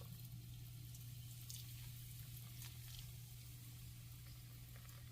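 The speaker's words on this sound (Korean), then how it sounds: "지금 소리가 벌써 지글지글 탄산이 소리가 들리시죠?" Steady, faint fizzing and crackling as carbonated water bubbles in Korean chive pancake batter, with a low hum underneath and no voices.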